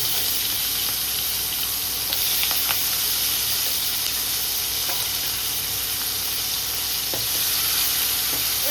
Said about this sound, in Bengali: পেঁয়াজটা প্রথমে আগে একটু ভাজা ভাজা হবে হালকা